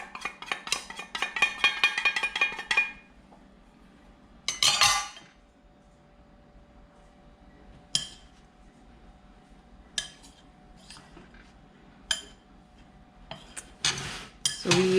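Flour and cornstarch being stirred together in a bowl for thumbprint cookie dough, with bursts of clinking utensil against the bowl, a longer scraping stretch at the start, then scattered short clinks and scrapes separated by quiet pauses.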